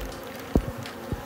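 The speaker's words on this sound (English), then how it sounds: "the best thing for cleaning honey up is thousands of bees" Thousands of honey bees swarm over spilt honey inside a roof cavity during a colony removal, a continuous buzzing hum broken by a few soft knocks and thumps.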